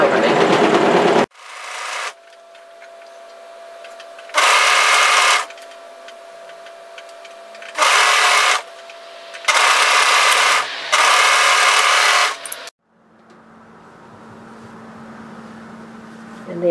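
A sewing machine runs in five separate bursts, stitching a raglan sleeve seam with the presser foot pushing the seam intersections together, each burst of steady whirring stopping cleanly, with a quieter lower hum in the final seconds.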